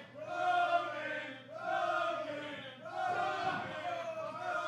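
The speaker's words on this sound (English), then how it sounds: "Crowd's getting behind him," A wrestling crowd at a live match chants in unison, with three loud rhythmic swells about one and a half seconds apart, voices rising and falling together without commentary on top.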